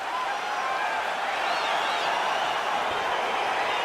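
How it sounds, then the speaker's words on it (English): UFC 273 arena crowd cheering and roaring as a fight gets underway, a steady, dense wall of crowd noise that holds throughout. "crowd getting excited as this fight gets underway"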